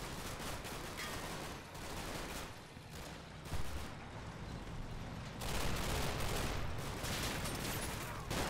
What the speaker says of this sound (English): The vehicle's taking a lot of fire.